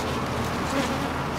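Honeybees massing around a hive as the colony prepares to swarm, giving a steady, dense buzzing hum that fills the whole moment without pause.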